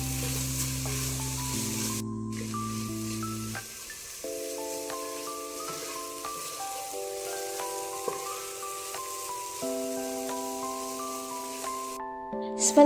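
Tomatoes frying in a pan for Mangalorean prawn pulao, a soft, steady sizzle running throughout beneath louder background music.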